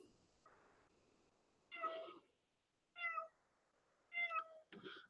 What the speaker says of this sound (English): apparently I have a cat down here